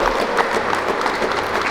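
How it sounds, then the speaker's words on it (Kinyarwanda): An audience at a certificate ceremony in a parish claps for a teacher, a short, steady round of many hands applauding throughout. "mumfashe nawe tumuha amashyi menshi."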